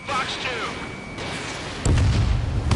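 Missile launch in the Ace Combat 7 combat flight game: a sudden heavy whooshing boom bursts in near the end after faint radio-style chatter and electronic tones, then holds as a loud roaring rush.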